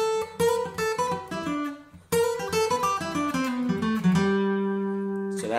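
A bluegrass phrase picked on a Gibson SJ100 acoustic guitar: quick, bright flatpicked single notes and ringing strums, close and clear, closing on a sustained chord.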